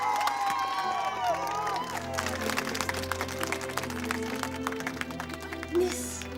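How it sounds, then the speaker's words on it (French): An audience breaks into applause and cheering, with sustained clapping and scattered shouts. Music plays underneath and a voice speaks over the crowd. "Vous pouvez vous applaudir."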